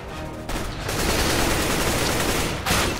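Rapid gunfire bursts in Counter-Strike: Global Offensive, a dense volley of shots lasting a few seconds, loud and close with no talking.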